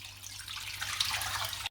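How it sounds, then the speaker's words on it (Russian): Cold tap water pours into a small pot holding a rinsed turkey leg for aspic, a soft, steady splashing stream close by that swells slightly before cutting off. "И снова заливаю холодной водой"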